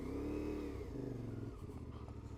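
A KLE500, Ibex 450 or 390 Adventure R adventure motorcycle idles along at very low speed in a tight circle, its engine making a close, steady mid-pitched drone that rises briefly and then settles, with no talking.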